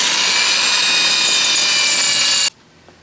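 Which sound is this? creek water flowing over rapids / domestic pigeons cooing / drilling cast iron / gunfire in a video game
drilling cast iron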